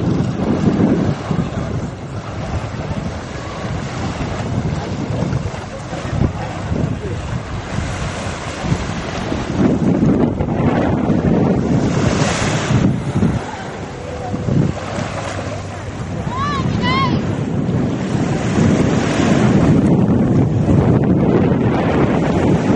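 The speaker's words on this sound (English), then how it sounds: "Here's the beach at Aquatic Park." Strong wind buffets the microphone over the steady roar of waves at the beach at Aquatic Park, loud and continuous, with no clear talking.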